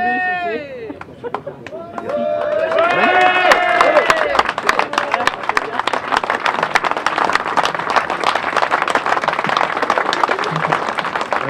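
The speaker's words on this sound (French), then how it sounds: "Ils sont un peu mous les applaudissements quand même pour Gérard." Crowd applauding the arrival of motorcyclists at an international biker rally in La Ferté-Bernard, with scattered individual claps that build into fuller but loose clapping. Voices and cheers ring out over it, strongest in the first few seconds.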